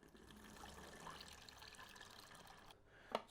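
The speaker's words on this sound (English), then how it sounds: "once I've poured the developer away" Used colour film developer liquid pours away from a developing tank in a steady, fairly quiet trickle, ending with a short clink near the close.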